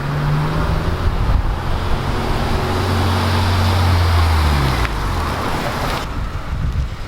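A Honda Civic Si FA5 drives up close by, its engine drone steady and loud under broadband road and wind noise.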